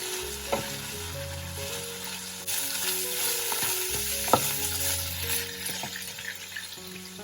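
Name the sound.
cabbage and rice being stirred while cooking in pan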